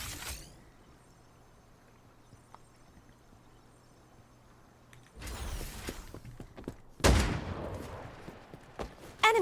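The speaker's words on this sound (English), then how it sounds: "Enemy suppressive fire on the right" Quiet battlefield ambience in Girls Frontline 2 gives way to sudden loud bursts of enemy suppressive gunfire, with sharp volleys landing near the end.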